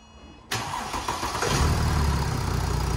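A Mercedes E350 diesel engine from an AMG Line convertible, running without its intercooler, cranks and catches, then settles into a loud, slightly bubbly idle close by after a brief rev.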